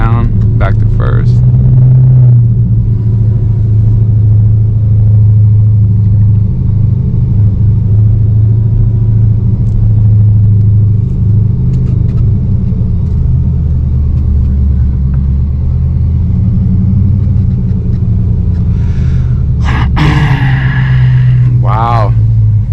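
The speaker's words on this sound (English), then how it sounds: "downshift back to second here, slowing down back to first." A Dodge Charger SRT Hellcat with a 717 hp engine downshifts into second and then first while slowing on the street, a loud, steady low rumble with brief blips, and a voice speaks briefly near the end.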